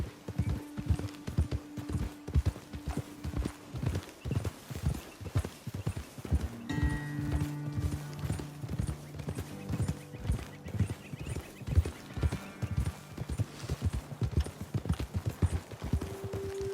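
Horse hooves clip-clopping in Red Dead Redemption 2, several horses walking at a steady rhythmic pace on the trail, with a brief whinny and low tones and occasional game sounds in the background.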